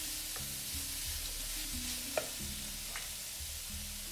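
A chicken Manchurian mixture being stirred in a pan, with soft scraping strokes over a low, steady sizzle and one sharp utensil tap, quiet and close, with no voices.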